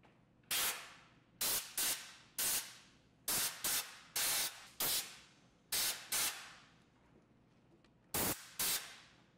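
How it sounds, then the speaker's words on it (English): A series of short, sharp aerosol bursts of penetrating oil onto a SawStop industrial cabinet saw's elevation mechanism, about a dozen in irregular succession, each a bright hiss that cuts off abruptly, close and fairly loud. "Next, spray penetrating oil where the threaded rod enters the elevation plate."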